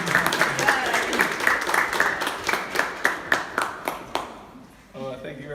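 An audience applauds to welcome a speaker at a visual arts studio show, with steady close clapping and distinct sharp claps that fade out toward the end.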